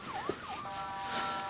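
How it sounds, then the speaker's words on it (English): An ambulance siren wails in a rising and falling pattern, clear and moderately close, heard alone for a brief moment in a dramatic hospital emergency scene. "would you go and find the ambulance, direct them over to Pilar?"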